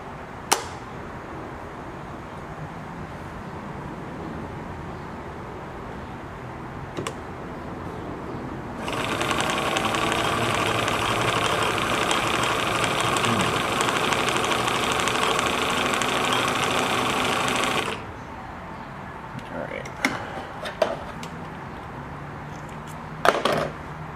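Bernina Record 730 sewing machine stitching in one steady, even run of about nine seconds in the middle, with quiet handling clicks and taps before and after.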